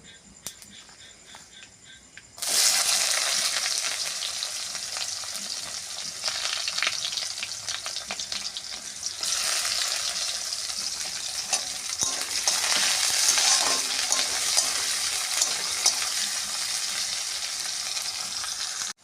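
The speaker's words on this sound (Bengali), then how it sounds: "এবার পেঁয়াজ দিয়ে দেবো।" Chopped onion drops into hot oil with bay leaf and panch phoron for masoor dal khichuri; after a quiet start, a loud sizzle bursts up and continues steadily, with occasional stirring scrapes.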